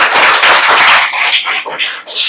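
Children in a classroom clap loudly together, a dense burst of applause that starts strong and breaks into scattered, uneven claps before fading.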